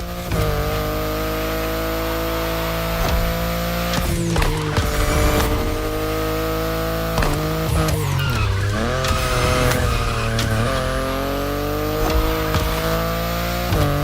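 BMW i8 hybrid sports car racing in The Crew Motorfest, its engine holding a steady droning whine with shifting pitch, punctuated by repeated tire squeals and skids, loud and close throughout with no talk.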